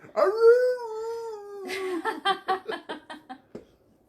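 Dogs howling in a home: one long, rising and falling howl near the listener, then a run of short, rhythmic yelping howls fading toward the end, with no talk over it.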